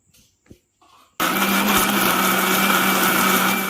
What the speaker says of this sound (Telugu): వేసేసామండి మిక్సీలో